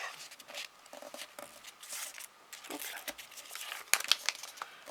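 Paper being folded into accordion pleats for a small handmade fan, with soft close-up crinkling and creasing rustles in short bursts and a sharper crackle near the end.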